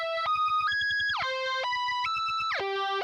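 Short synth music lead with dual mono EQ boosts, including a right-channel boost near 7 kHz, playing bright stepping sustained notes over a steady pulsing beat, clear and alone.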